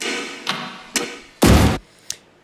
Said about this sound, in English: This is the sound of a gun cocking